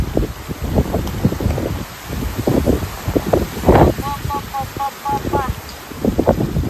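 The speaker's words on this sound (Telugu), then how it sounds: "ఈ గాలి చూడండి అసలు." Strong wind blows across open farm fields, a steady rushing roar buffeting the microphone throughout while a person talks over it.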